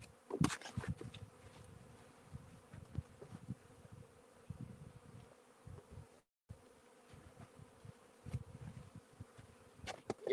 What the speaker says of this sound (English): I figured I'd give you a little bit of the bee experience here.